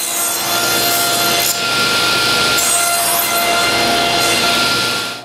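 A hand saw cuts through wood to clear out the section between two earlier cuts on a wooden tripod piece. The rasping strokes are close, loud and continuous, with brief pauses between the passes.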